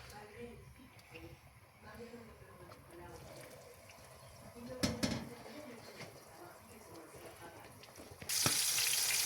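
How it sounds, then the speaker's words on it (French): Cooked pasta, seasoned with spices and herbes de Provence, is stirred into sauce in a pan, giving soft sizzling and scraping under faint background talk, with a brief knock midway and a louder hiss at the end. "Je vais les mélanger dans la sauce."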